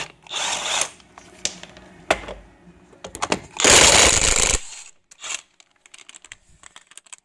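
Power tool on a Saturn wheel, spinning off the lug nuts in loud, close bursts of whirring broken by clanks and rattles of metal parts, with a long steady run midway.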